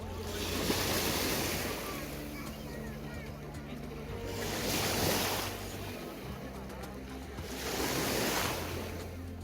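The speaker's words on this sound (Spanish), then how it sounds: "Me gusta escuchar el sonido de las olas." Sea waves rolling in, swelling and breaking in three slow surges with a steady wash of surf between them, heard alone at moderate loudness.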